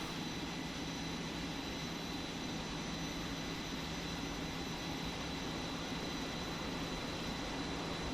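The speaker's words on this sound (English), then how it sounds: "Right engine RPM is on the rise." An F-4E jet's right engine roars steadily as it spools up in the DCS World flight simulator, a broad constant rushing whine with a faint high tone, no speech over it.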